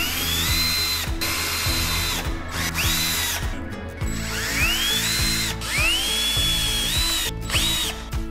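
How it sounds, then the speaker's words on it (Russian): A cordless screwdriver drives self-tapping screws to fix hinges on a bedside cabinet door, with repeated loud whirring bursts that rise in pitch, short pauses between them, and ratcheting clicks, all close and with no talking. "Устанавливаем петли в посадочные гнезда и фиксируем их саморезами из комплекта"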